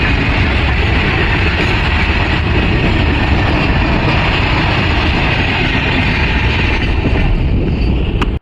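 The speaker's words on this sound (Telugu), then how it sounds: "ఇక్కడ కొద్దిసేపు వెయిట్ చేసిన తర్వాత ట్రైన్ అయితే వచ్చేసింది అనమాట." A train bound for Bangalore rumbles steadily as it comes into a railway station, a loud, continuous roar of wheels and carriages with no break across the whole stretch.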